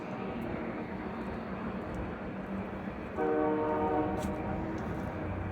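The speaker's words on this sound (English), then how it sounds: "you got the train horn in the distance" A faint, distant train horn sounds one sustained blast against a steady background hiss.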